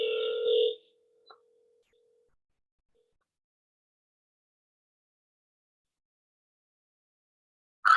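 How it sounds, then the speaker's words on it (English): A telephone tone sounds briefly at the start as a call is placed, then a click and long silence follow before another short tone cuts in at the very end. "Let's make the phone call here."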